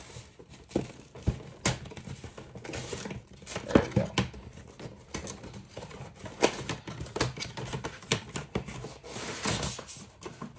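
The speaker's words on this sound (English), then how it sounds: "Now we're opening the box." Someone opens a 2023 Topps trading card super box, producing close crinkling, tearing and scraping of wrapping and cardboard with scattered sharp clicks, continuous with no voices.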